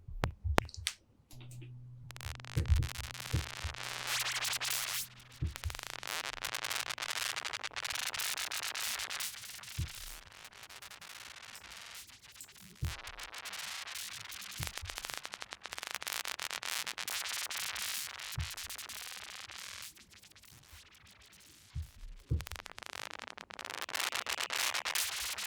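Long swells of hissing, rubbing noise from a synthesizer rise and fall in broad washes, broken by soft clicks and brief gaps.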